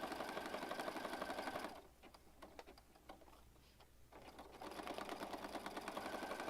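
A sewing machine runs a zigzag stitch with black thread in both upper and lower, stitching paper junk-journal pages. Its fast, steady mechanical chatter is loud, drops to a quieter ticking for a couple of seconds, then resumes.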